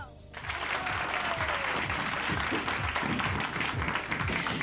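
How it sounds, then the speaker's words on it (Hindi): College event audience breaking into loud, sustained applause, dense clapping throughout with cheering voices mixed in and a brief rising whistle near the start. "एक बार तालियां।"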